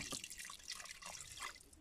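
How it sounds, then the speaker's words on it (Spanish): Water from a cup is poured into an electric pot, a soft splashing trickle with dripping, quiet and close, lasting about two seconds with no voices. "yo creo que le voy a echar una taza más de agua"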